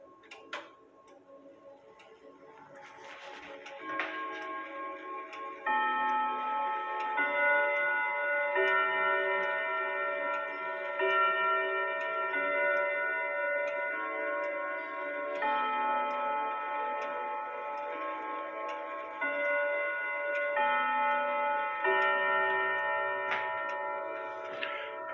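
A grandfather clock with an Urgos 32/1A movement chimes the Westminster three-quarter-hour sequence over steady ticking, the bell notes overlapping and sustaining at a moderate, close level; one rod strikes weakly.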